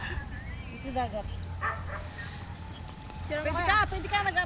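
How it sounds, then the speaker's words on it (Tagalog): A dog barks a few short, fairly faint times outdoors by the sea, under people chatting in Filipino. "May tayo dyan ng aso."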